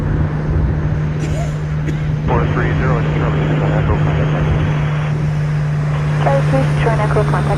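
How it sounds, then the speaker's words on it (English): A WestJet Boeing 737-800 arriving from Orlando at Toronto Pearson, its engine noise a steady broad rumble under a continuous low hum, with a person talking over it for much of the time. "WestJet 1169 from Orlando in next, the 737-800."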